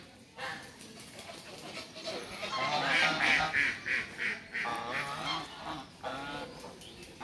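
Geese honking and quacking in a loud, rhythmic chorus of repeated calls, some close and overlapping, with a few voices talking faintly underneath.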